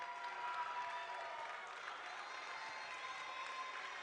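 At the end of a girls' high school basketball game in a gym, the crowd claps and cheers steadily, a dense wash of applause filling the whole stretch with murmured voices mixed in.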